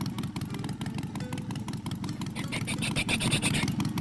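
A video game car engine revs and drones steadily with a rough, pulsing rumble, rising slightly in pitch near the end.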